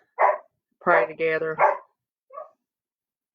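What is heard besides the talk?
dog barking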